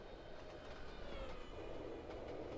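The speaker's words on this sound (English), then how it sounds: "Oh, there's a freight train." A freight train passes in the Trainz Simulator 2 game, heard faintly as a continuous rumble of rolling wagons with rhythmic wheel clatter and a light metallic ring, and no talk over it.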